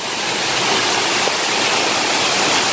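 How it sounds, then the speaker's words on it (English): The last waterfall at Ng Tung Chai on Tai Mo Shan, Hong Kong, roars loudly and steadily at close range, a dense, unbroken rush of falling water with no voices over it. "Here is the last waterfalls in Nang Tong Chai."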